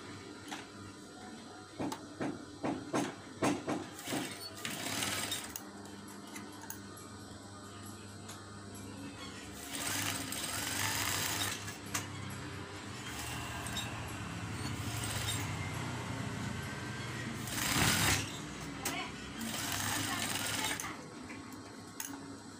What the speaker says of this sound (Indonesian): Lalu bagian pinggir ini kita jahit juga.